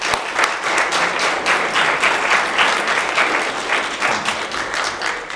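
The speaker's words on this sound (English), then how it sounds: "Everybody, please give them a round of applause" Audience applauding filmmakers at a film camp world premiere screening: dense, steady clapping from a crowd, sustained and fairly loud throughout with no talking.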